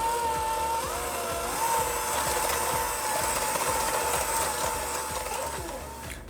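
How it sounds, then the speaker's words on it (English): An electric mixer beats butter with two tablespoons of sugar for an eggless condensed-milk sponge cake, giving a loud, steady motor whir with rhythmic beater pulses throughout and no talking. "we're going to beat this butter and sugar until it's light and creamy"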